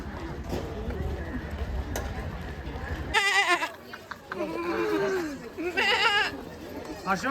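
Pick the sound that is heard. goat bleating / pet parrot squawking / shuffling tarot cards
goat bleating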